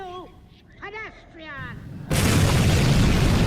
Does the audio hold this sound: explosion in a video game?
yes